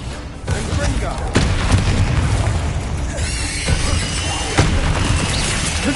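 A spell explosion from Hogwarts Legacy booms loudly in a game fight, followed by rumbling bursts and crackling debris, with several further impacts and voices in the mix.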